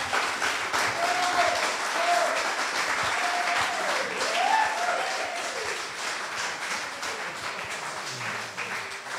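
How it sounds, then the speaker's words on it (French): Sustained audience applause fills the room, a dense, even wash of many clapping hands at close range, with a faint voice or tone rising briefly partway through. "Maintenant, tu peux applaudir."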